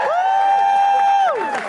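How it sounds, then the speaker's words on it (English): A loud, sustained whoop of cheering rises from an audience at a celebration event, held steady for over a second before tailing off, with crowd noise underneath. "Let's give her a round of applause."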